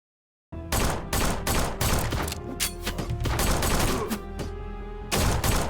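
Rapid bursts of weapon fire from the Lovecraftian shooter Forgive Me Father 2, including a starting revolver and otherworldly guns, crack loudly and densely, overlapping in a near-continuous barrage with only brief gaps.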